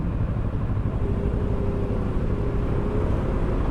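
Road traffic heard while riding a Versys 650 motorcycle, a steady broadband rumble of engines and wind with a faint passing engine tone, continuous and close, with no talking.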